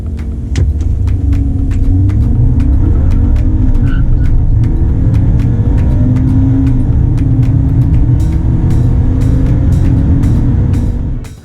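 BMW X1 sDrive20i (U11) with its B48 engine accelerating: a loud, steady engine drone with a rising tone fills the whole stretch, with no talking.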